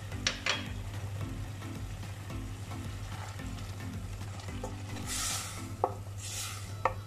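Ginger-garlic paste frying with softened potatoes for an aloo methi sabzi, a steady low sizzle in the pan with a few stirring scrapes and clinks of a spoon throughout, no voices.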